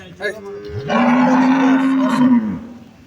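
A dairy cow lets out a single long, loud moo close by on a farm, rising and holding steady before trailing off.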